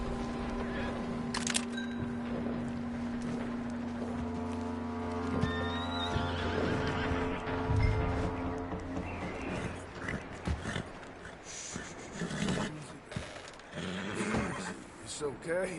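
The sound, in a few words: horse neighing in video game Red Dead Redemption 2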